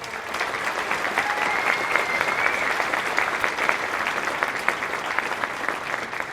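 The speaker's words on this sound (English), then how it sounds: "So big round of applause for everybody I work with." A crowd applauds loudly and steadily, dense clapping that holds for several seconds without voices over it.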